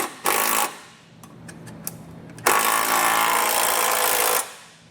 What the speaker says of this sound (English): So what I'm going to do is tighten this one up with an 11/16